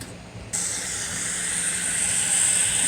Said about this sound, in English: I'm going to add the meat and be cooking the meat